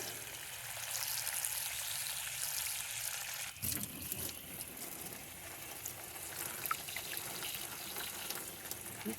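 Steady splashing and trickling water poured into a gold pan of mud in a gold mine, close by, continuous for several seconds with a sharper slosh partway through; no voices.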